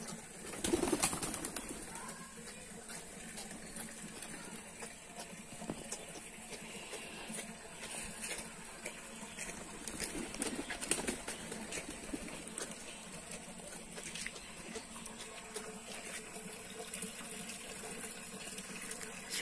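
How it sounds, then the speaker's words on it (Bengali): Pigeons coo softly on a rooftop garden in the morning, low repeated calls heard faintly at a distance over quiet outdoor background noise. "এটা ভাইয়ার কবুতর"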